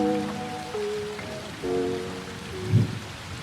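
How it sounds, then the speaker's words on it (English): Rain falling on a roof, a steady close patter running throughout under soft sustained tones, with one slightly heavier splash near the end. "The relaxing, repetitive sounds of raindrops hitting your roof"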